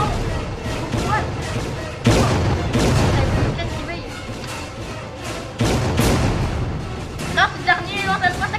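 Loud booming blasts from bombs in the horror video game Camping 3 hit in repeated bursts, with several heavy impacts and a busy rumble between them, while an excited voice shouts over the action.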